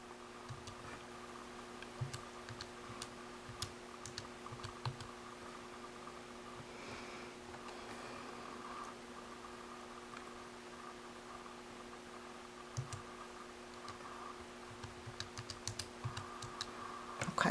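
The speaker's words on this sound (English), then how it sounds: "I'm going to go into my y equals, and I'm going to type in the equation" Button presses on a graphing calculator while an equation is entered, soft irregular clicks and taps spread across a quiet background with a steady electrical hum, no voices.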